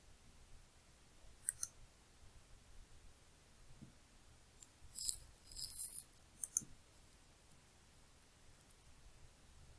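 A computer mouse clicks while working in CAD software, a few quiet, sharp clicks scattered through the clip, with a short cluster in the middle over faint background hiss.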